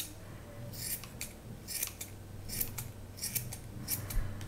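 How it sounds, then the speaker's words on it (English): Scissors snip repeatedly at a yarn pom-pom during trimming, a close, crisp series of short cuts in irregular bursts, with no talking. "I'm not very happy with this pom-pom, so I'm going to keep trimming."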